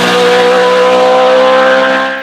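A front-mounted Judd flat-plane V8 revs loud and close, holding a steady, piercing high-pitched howl with dense harmonic tone for about two seconds.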